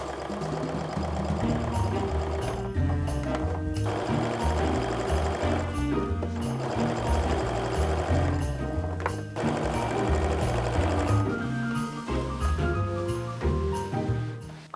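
A sewing machine stitches quilt blocks together for a small mug rug, a rapid rhythmic close whirr running in several bursts with brief pauses between seams.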